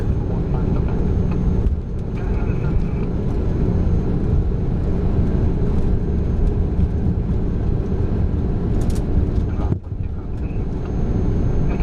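Biman Bangladesh DC-10 engines roar steadily during the takeoff roll, a loud, continuous low rumble heard from inside the aircraft with a brief dip near the end, and crew voices faintly beneath it.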